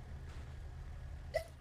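A single short sneeze bursts out near the end, brief and fairly close, over a steady low background hum.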